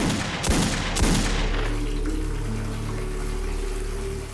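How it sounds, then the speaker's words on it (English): Two sharp, loud gunshots in quick succession in a basement, followed by a steady rushing of running water that continues to the end. "We discharged firearms in the basement with the water running."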